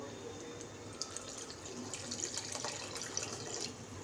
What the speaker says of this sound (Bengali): তো এইবারে আমি একটু জল দেব।